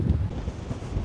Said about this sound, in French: Ah là ça souffle sérieusement.